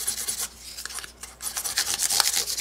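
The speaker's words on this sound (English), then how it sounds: "So I'm just going to work with some 600 grit here and try to get rid of any burrs" Fine 600 grit sandpaper rubbing across guitar frets to remove burrs on the fret edges, a close, soft hissing rasp in short strokes with a brief pause midway.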